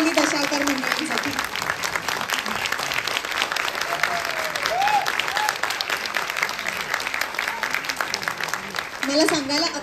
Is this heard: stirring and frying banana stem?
no